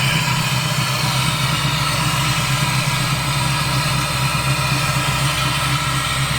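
An LS-swapped Lexus IS300 idles nearby, a loud, steady low rumble with an even burble that holds without change throughout, no voices over it.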